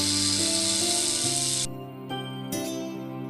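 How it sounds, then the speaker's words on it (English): A snake hissing: a steady, breathy hiss that lasts under two seconds over soft background music, then cuts off abruptly. "Snake."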